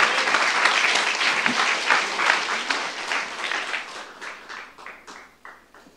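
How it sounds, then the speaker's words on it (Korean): A church youth congregation claps during a Korean sermon, starting as loud dense applause and thinning out toward the end into a few scattered, fading claps. "가면서 해결할 수 있다고 믿는 사람 박수하세요"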